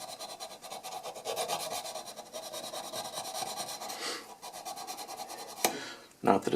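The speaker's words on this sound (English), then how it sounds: "I'm going to use a sanding stick" Steady, rhythmic rasping of a sanding stick rubbing back and forth on a titanium 1911 pistol part during barrel fitting, close up, continuing for several seconds before a few louder scrapes.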